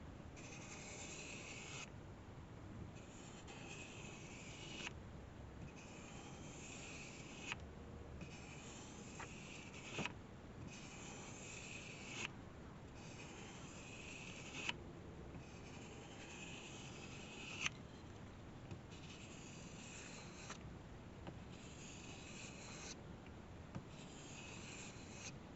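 Bowie knife edge being stropped, a faint, steady rubbing in repeated even strokes with a soft tick at each turn, close and quiet with no talk.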